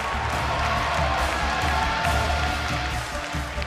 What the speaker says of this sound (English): Give a cheer for Maru Prime!